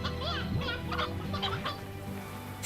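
Hens in a video game cluck and call in a busy, overlapping cluster, several birds at moderate distance over steady game ambience, with no talking.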